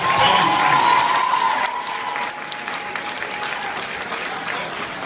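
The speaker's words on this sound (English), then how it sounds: "let's give Gama a round of applause" Applause from students and staff fills a school assembly, loud and dense at first with a sustained tone over it, then easing to steadier, softer clapping that continues to the end.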